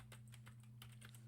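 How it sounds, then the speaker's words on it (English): Quick, uneven typing on a computer keyboard, a run of light clicks over a steady low electrical hum. "Oops, gotta type this. Keyboard's weird."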